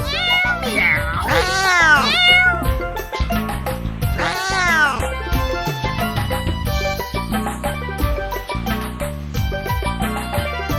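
Cat meowing repeatedly, loud and close, with several long rising-falling meows and caterwaul-like cries in a row, over music playing in the background.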